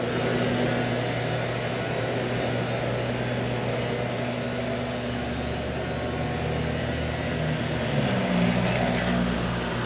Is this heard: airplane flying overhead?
yes